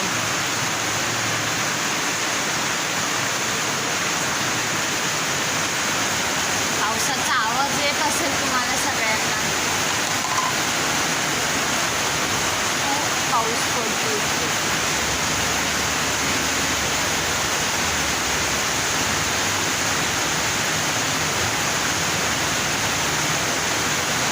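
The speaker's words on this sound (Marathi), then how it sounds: "आज आता मी तुम्हाला दाखवते बाहेर किती पाऊस पडतोय बाहेर बघा किती पाऊस पडतो" Heavy rain pouring steadily outside a home during the monsoon, a dense continuous hiss that holds evenly throughout with no talk over it.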